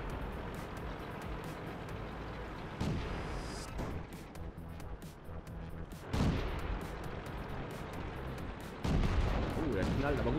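Three heavy tank cannon blasts boom at intervals over a steady mechanical rumble, each one a loud, sharp crack with a rolling tail, from World of Tanks gameplay.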